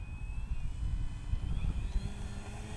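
An FMS Pitts 1400mm V2 RC biplane taking off from a slick runway: a steady propeller and electric motor drone holds at a constant, fairly loud level throughout, with a faint high whine above it.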